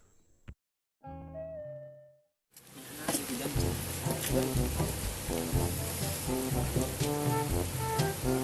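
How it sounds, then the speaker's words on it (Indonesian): Steady rain falls in a continuous broadband hiss for most of the stretch, while music with a rhythmic beat plays loudly over it. "hari hujan cai"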